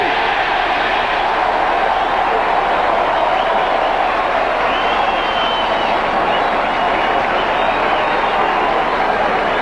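A baseball stadium crowd of several thousand cheers loudly and continuously after a strikeout, a dense roar that holds steady throughout.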